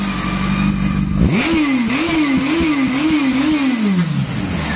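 A Honda CB900F motorcycle engine is revved close up. After an idle, the engine climbs sharply in pitch, wavers through several quick throttle blips and then drops back down, loud and alone with no speech.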